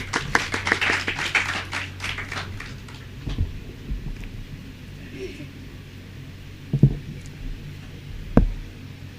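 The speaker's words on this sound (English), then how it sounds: "Can we have a big round of applause for them, please?" Audience at a women's rights session at a college applauds, a brief burst of scattered clapping at the start that thins quickly into a quiet room with a few isolated thumps and handling noises.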